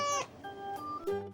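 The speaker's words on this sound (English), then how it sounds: "And cat meowing in the mud." A cartoon cat meows in a muddy puddle among farm animals, three short separate mews, close and clear, each with a bright tonal pitch.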